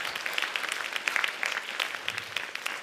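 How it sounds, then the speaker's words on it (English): An audience claps after a girl's musical performance at an Easwaramma Day celebration, a brief burst of steady, moderately loud applause from a gathered crowd. "Can we give her another round of applause?"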